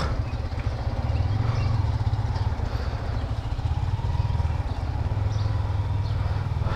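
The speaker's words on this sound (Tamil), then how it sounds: "இப்போ தான் வண்டி எல்லோரும் வார்ம் அப் பண்ணுறாங்க." Several Yamaha MT15 motorcycles idle together while warming up before a forest road trip, a steady low engine rumble holding close and even throughout with no speech.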